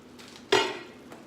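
A spoon gives a single short clatter against a pot as seasoned food, with half and half, salt and pepper, is stirred, the sound standing out against a quiet kitchen background with no talk.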